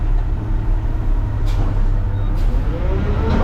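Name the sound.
front load garbage truck engine revving too hard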